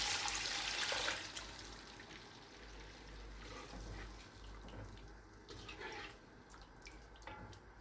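Water pours into a cooking pot for chicken mandi rice, a soft, continuous splashing stream that fades to lighter trickles and drips.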